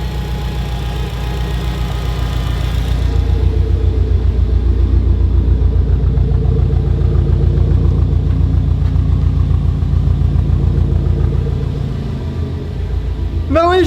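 Subaru STi engine catching and settling into a steady idle, a loud close rumble with even pulsing that continues alone before easing near the end.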